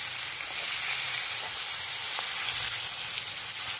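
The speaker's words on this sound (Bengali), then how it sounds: "এবার এর মধ্যে দিয়ে দেবো প্রথমে পেঁয়াজ কুচি।" Chopped onions fry in hot oil that already holds dried red chillies, giving a close, loud, continuous sizzle with faint stirring crackles and no voices.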